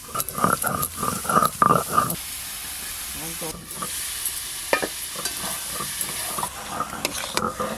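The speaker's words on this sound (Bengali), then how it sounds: "ঝিঙে একটু নাড় ভালো করে" Ridge gourd frying in a pan and being stirred: steady sizzle and hiss with a run of quick scraping stirs at the start, then quieter frying with occasional knocks and brief bits of speech.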